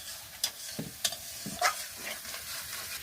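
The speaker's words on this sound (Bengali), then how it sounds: "পাঙ্গাস মাছ ভুনার জন্য মশলা খুব সুন্দরভাবে কষাতে হবে।" Spices for a pangas fish curry sauté and sizzle in a pan while a spoon scrapes and stirs in a few distinct strokes, close and moderately quiet, with no talking.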